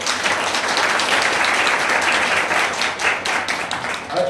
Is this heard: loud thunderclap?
no